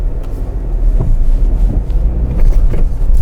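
A Dacia Bigster pulls away jerkily in low first and second gear, a steady loud engine and road rumble with surging low drone and some wind noise, no talk.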